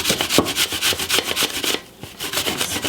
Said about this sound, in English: I'm just using an L grater. I'm just doing a large apple